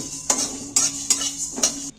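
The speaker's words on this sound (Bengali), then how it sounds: "এইটা আমি একটু নাড়াচাড়া করে শুকনো খোলায় ভেজে নেব" Whole spices (four cardamom pods, two cloves and a spoonful of coriander seeds) dry-roasting in a pan and stirred with a utensil: four sharp, evenly spaced scrapes and clinks against the metal, with no sizzle and no talking.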